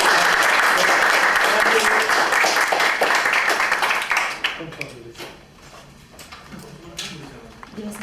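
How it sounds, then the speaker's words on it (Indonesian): Audience applause at a corporate insurance event, dense crowd clapping that is loud at first and then thins into scattered claps as it fades, with talk emerging underneath toward the end. "tepuk tangan sekali lagi buat Ibu"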